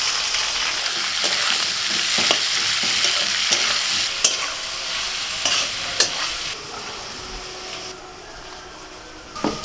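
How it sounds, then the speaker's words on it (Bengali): Onions sizzle and crackle in hot oil in a home kitchen while a utensil stirs and scrapes the pan, close and steady, with a few sharper clinks and no talking. "তেলটা গরম হয়ে গেছে, এখন পেঁয়াজ দিয়ে দেবো।"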